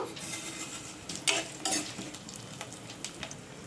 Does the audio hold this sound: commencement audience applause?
no